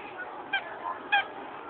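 Chickens give two short, sharp squawking calls about half a second apart over a low, steady background hum.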